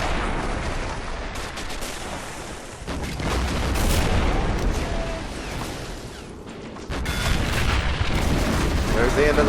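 A tank cooking off in the WWII strategy game Men of War: Assault Squad 2 makes a dense, continuous roar of explosions and crackling gunfire from a large battle, loud and sustained with brief lulls, and someone speaks over it.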